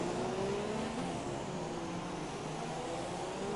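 Racing cars in the F1 2017 video game running alongside, a steady layered engine drone with whining pitch lines that rise and fall slightly, fairly quiet and continuous.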